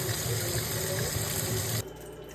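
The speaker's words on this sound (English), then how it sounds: "I dump them in my strainer and then I just rinse them off really well" Tap water runs steadily into a strainer of canned black and kidney beans being rinsed in a sink, a continuous close splashing rush that cuts off near the end, leaving quieter room sound.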